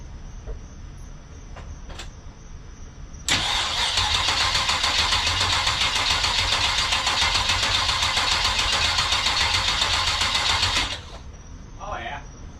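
Chevrolet Monte Carlo engine cranking and catching, then running steadily at a loud, even idle for about seven seconds before shutting off, close by, with faint voices before and after.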